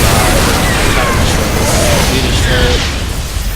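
Loud burst of baneling explosions tearing through a group of marines in a StarCraft-style real-time strategy game, dense booming and popping blasts filling the whole stretch, with game effects layered over a continuous roar.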